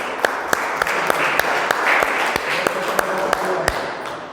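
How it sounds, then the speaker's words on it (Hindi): Audience clapping at a Vivekananda Jayanti youth day gathering with a Gayatri lamp yajna in Talegaon, Pune: steady applause from a crowd runs throughout, with a few sharper individual claps standing out. "वेरी गुड, ताली बजाइए इसके लिए।"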